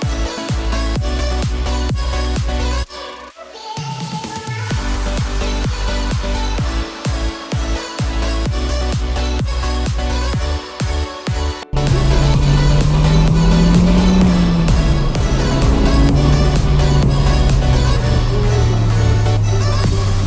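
Toyota Hilux pickup, a homemade minitruck build, driving with a steady loud engine and road drone throughout, a brief dip near three seconds, then rising revs as it pulls away and accelerates.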